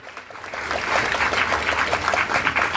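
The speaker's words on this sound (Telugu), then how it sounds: "గట్టిగా కొట్టండి చప్పట్లు." A church congregation at a rosary month closing celebration in a colony claps together, producing dense, sustained applause that swells and continues steadily throughout.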